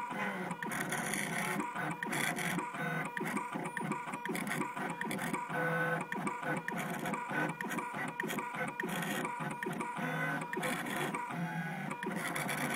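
A Gravograph IM4 engraving machine cutting a name plate, a steady, busy mechanical chatter of rapid stepping motor buzzes and whirring bursts, continuous and close, with no talking.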